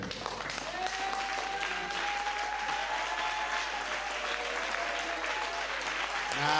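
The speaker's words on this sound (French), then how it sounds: "Let's stand up and give a clap offering to the Lord." A church congregation stands and claps as an offering to the Lord, steady dense applause filling the room throughout and swelling louder at the very end, with sustained musical tones running underneath.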